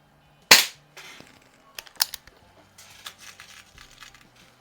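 A pistol fitted with a red dot sight is fired at targets while plinking. One sharp, loud crack is followed by a second fainter shot, with light clicks and handling rustle between them.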